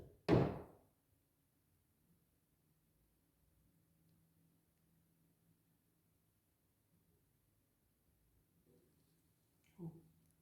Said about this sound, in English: Did you hear like a little knock? A little tap.